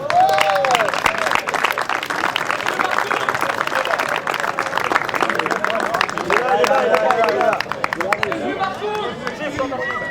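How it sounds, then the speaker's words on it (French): Crowd applause for the best first-league player, unanimously elected, at a Proxifoot gala football match, a dense steady clapping wash lasting throughout with some cheering and crowd chatter mixed in. "On peut l'applaudir, un excellent joueur."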